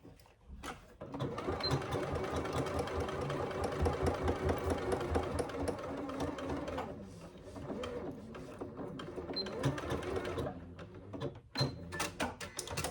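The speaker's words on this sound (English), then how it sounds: "just sew again over the side connectors to make sure that that area is reinforced" A sewing machine stitches over the side connectors of a hobo bag, a close, steady mechanical whir with brief pauses and restarts.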